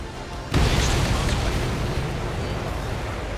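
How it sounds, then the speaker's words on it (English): A bomb explodes in the air combat game Ace Combat 7: a sudden deep boom after a short pause, followed by a loud sustained rumble that slowly fades. "Well, I'm just gonna drop a bomb on this guy."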